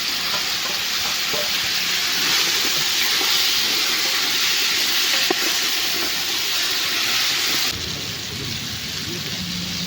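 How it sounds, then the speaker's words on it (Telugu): Chicken pieces fry in hot oil for chicken dum biryani, giving a loud, steady broadband sizzle that runs unbroken for nearly ten seconds and shifts tone slightly near the end. "చికెన్ దమ్ బిర్యానీకి చికెన్ వేసుకొని ఫ్రై చేసుకుంటున్నాం"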